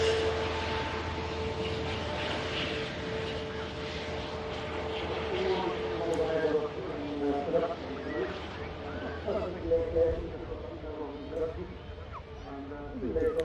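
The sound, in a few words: Transat Airbus A321neo airliner landing at Manchester Airport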